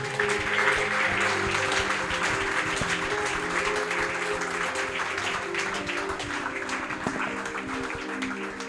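A church congregation applauds at an evening revival service, with sustained, dense clapping from many hands that stays loud and even throughout, under a faint murmur of voices.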